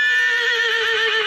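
A loud, sustained horse neigh with a steady wavering pitch, close and clear with no talk over it.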